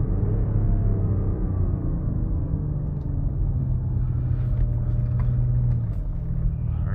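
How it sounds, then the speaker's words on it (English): BMW X5 M50d heavily turbocharged diesel with 400 hp and an 8-speed ZF gearbox, pulling hard as the engine climbs toward redline, a loud sustained droning rumble with a shifting hum heard from inside the cabin, no voices. "Red line really comes up very quickly. I mean, it's a diesel motor, heavily turbocharged too."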